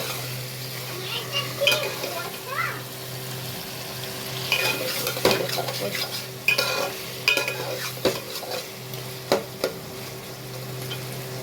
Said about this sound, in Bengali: এই যে এবার মাংসটাকে কষবো, 10-20 মিনিট ভালো করে কষবো।